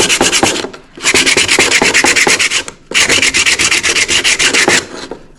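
A wooden birdhouse is sanded by hand with coarse 60-80 grit sandpaper, giving loud, close, raspy back-and-forth strokes in two bursts separated by a brief pause.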